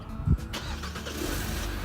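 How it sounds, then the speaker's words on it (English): A car engine cranks over with a short burst and catches, then settles into a steady low running hum, close by with no talking. "She's humming like a bird. The car is on."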